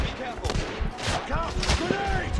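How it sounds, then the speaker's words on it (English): Gunfire in The Order: 1886, rapid bursts of shots cracking amid a chaotic firefight, mixed with shouting voices. "They're shooting from behind me"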